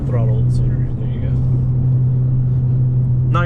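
A steady, loud engine rumbles from inside a Volkswagen MK6 GTI with a manual gearbox, holding a constant drone while accelerating, with a few brief voices over it.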